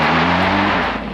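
A Mitsubishi Evo X revs hard with its all-wheel drive losing traction, a loud, close, dense engine roar that holds steady and then eases slightly as it fades near the end.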